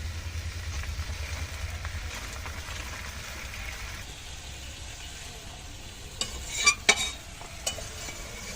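Spices frying in a pan, a soft, steady sizzle at low level with a few sharper scrapes and taps of stirring near the end.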